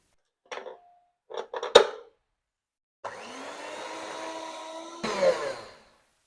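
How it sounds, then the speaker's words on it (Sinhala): Electric hand beater whipping butter for cupcake batter, a steady whirring drone for about two seconds after a few short clicks and knocks, rising louder at the end as the beaters dig into the bowl. "මේක බටර් ටික හොඳට විනාඩි 2ක් වගේ කාලයක් බීටර් එකෙන් බීට් කරගන්න ඕනේ"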